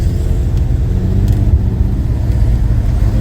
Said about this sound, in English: it sounds like the power steering belt's slipping a bit